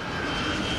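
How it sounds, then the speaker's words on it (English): A Boeing 747 jet airliner's engines roar loudly and continuously, a dense broadband rumble with a steady high whine running through it. "Now you're looking at a big 747 coming at you."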